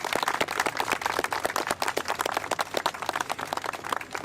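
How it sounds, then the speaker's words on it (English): A dense, continuous round of applause from an audience honoring women who served in the military and their communities, many hands clapping steadily and fairly close for the whole stretch without a break. "Let's please give them another round of applause"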